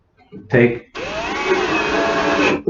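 A brief whir, then a cordless drill drives a screw into a cabinet, spinning steadily for about two seconds at close range, its pitch holding high before stopping.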